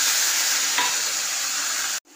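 Boiled tomato hits hot oil in a pan for an onion- and garlic-free eggplant choka, giving a steady, close sizzle that cuts off abruptly.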